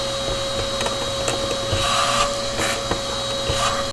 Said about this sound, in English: Now we are going to vacuum it one more time.